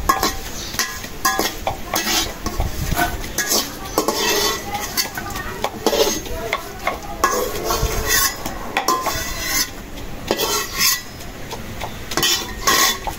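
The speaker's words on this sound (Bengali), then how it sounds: "আমি শুকনো মরিচ গুলা একটু হালকা তেল দিয়ে ভাজে নিতেছি।" Dried red chillies are stirred in a pan with a little oil, making repeated metallic scrapes and clinks of a utensil against cookware over a faint sizzle.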